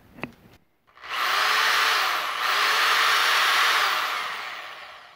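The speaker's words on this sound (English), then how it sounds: "my cheap Black & Decker hammer drill" A click, then a cheap corded Black & Decker hammer drill rated 6.5 amps whirs up to a loud, steady high-pitched whine, dipping briefly midway before running on continuously.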